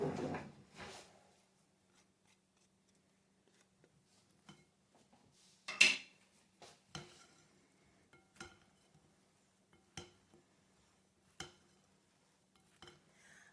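Kitchen utensils clatter while a spatula is fetched during cooking: a few scattered knocks and metallic clinks, with one sharper clang midway, separated by quiet gaps.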